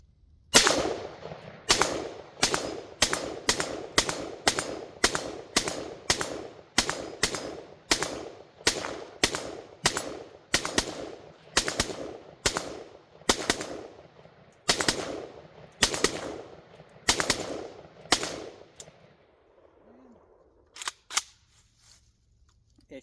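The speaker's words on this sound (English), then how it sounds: "Okay, I'm here at around 30 yards. Let's do some shooting." Rifle fire from a Zastava ZPAP M70 and a Springfield Armory Saint at about 30 yards: around two dozen loud, sharp single shots in a fairly even rhythm, outdoors and close, ending in quiet.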